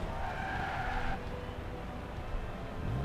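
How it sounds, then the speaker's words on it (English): Continuous tire squeal from a burnout of an old MINI, about 50 years old, in the racing game Forza Horizon 2, with engine roar underneath that stays loud and steady throughout. "Oh yeah, we're just continuous burnout here."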